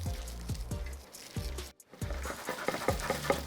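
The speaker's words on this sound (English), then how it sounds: "Oh, hear that sound? It's the sound of crispy chicken." Crispy deep-fried Chinese lemon chicken pieces being tossed with salt, giving a close, repeated rustling and crunching with rhythmic low thumps about every half second and a brief pause midway, no voices.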